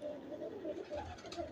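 Pigeons coo softly in a loft, a few low rolling calls repeating in a quiet, close room.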